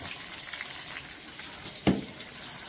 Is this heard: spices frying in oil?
yes